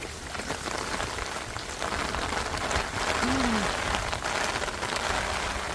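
Steady rain pours down on an outdoor sports field, a loud, continuous hiss of drops with no breaks, heard close up with no talking.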